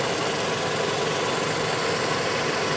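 Engine fed by a gas line through a bubbler, running with a steady dense rumble and even hiss, loud and unchanging throughout, with no voices.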